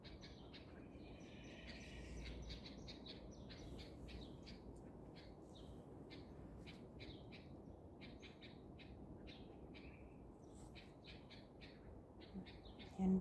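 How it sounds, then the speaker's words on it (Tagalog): Many birds call and squawk in rapid, overlapping bursts outdoors, fairly faint over a low background rumble. "Ay, maraming ibon."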